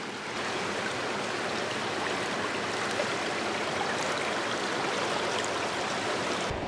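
Small spring creek flowing steadily during a euro nymphing outing, a constant broadband rush of running water close by, with no talk.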